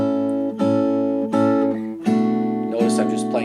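Guitar playing the intro, strumming two bar chords back and forth with repeated rhythmic strokes, close and bright, in an instrumental passage with no talking.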